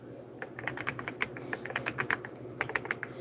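Quick runs of close keystrokes on a computer keyboard as names are typed, light irregular clicks in short bursts over a low steady room hum.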